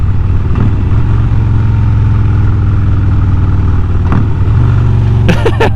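A Harley Davidson motorcycle engine drones loud and close while riding, with a steady deep rumble and a change in pitch near the end as the rider downshifts.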